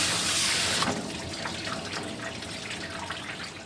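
Water sprays from a hose or faucet while a dog is bathed in a grooming shop. The spray is loudest at first, then softens into a steady, close patter of water with small splashes, and no one speaks.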